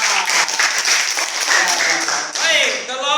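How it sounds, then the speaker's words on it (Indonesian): A classroom full of students claps for a student group. The applause is dense, steady and fairly loud throughout, with a few voices mixed in near the end. "Tepuk tangan untuk kelompok 4."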